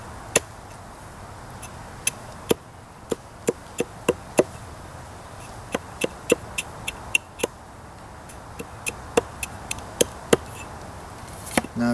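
An axe whittles the tip of a wooden skewer at a campsite in a series of sharp, crisp chopping taps, irregular but frequent, close and clear over faint outdoor background, with no talking.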